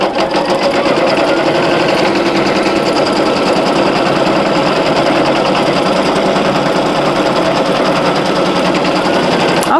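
A single-needle embroidery machine runs a tack-down stitch for an appliqué heart patch, a loud, fast, steady needle chatter that continues unbroken and close by.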